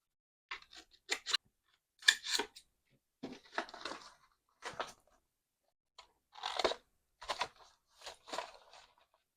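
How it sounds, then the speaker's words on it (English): Scissors snip through junk-mail envelope paper to trim the sides of a lid, about nine short crisp cuts in separate bursts against near silence. "I'm just going to cut off these two sides of my lid here"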